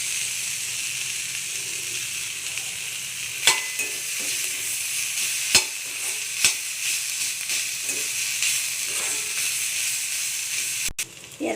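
Boiled potatoes dusted with turmeric sizzle and sauté in a hot pan, a steady frying hiss broken by a few sharp clinks and scrapes of stirring.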